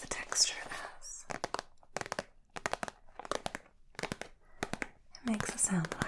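A rubbery plastic pencil case is handled up close, giving soft, muted crinkling and rustling in short bursts with brief pauses, mixed with quiet whispering.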